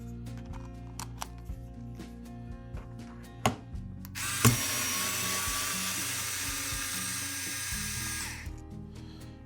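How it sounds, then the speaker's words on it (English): An electric screwdriver whirs for about four seconds, backing small screws out of a DJI Agras drone remote controller, a close, steady high-pitched buzz preceded by scattered small clicks and handling taps. "It's best to have a electric screwdriver because there's a lot of small screws."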